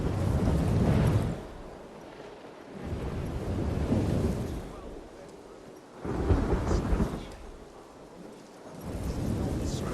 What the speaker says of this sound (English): Why am I hearing like thunder and shit when there's like no